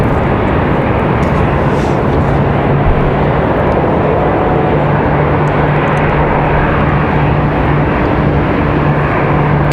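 A Boeing 757 at Raleigh Durham airport on a windy day produces a loud, steady jet roar that holds throughout, broad and close with a faint whine riding on top.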